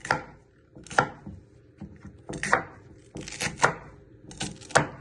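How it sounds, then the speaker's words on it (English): A kitchen knife chops and slices a de-seeded pepper on a board, giving a run of distinct, close, crisp knocks in uneven bursts with pauses between groups of cuts. "you want to chop it down the middle and then flatten it and slicing it into pieces"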